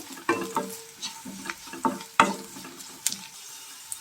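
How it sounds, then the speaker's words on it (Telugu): A spoon stirs chili powder through onions frying in a pan for an onion pulusu. Several distinct scraping strokes come close against a soft sizzle, with brief pauses between them and no talking. "సరిపడంత కారం పొడి వేసుకొని బాగా అంతా కలపండి ఒకసారి."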